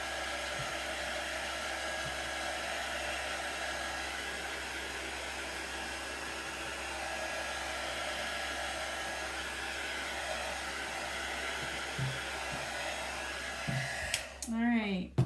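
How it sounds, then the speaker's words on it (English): A hair dryer blows steadily and evenly, close to the microphone, drying polka-dot decoration on a popsicle-themed cake; the steady whoosh cuts off near the end with a few handling bumps. "I want to hit this with the dryer for just a second."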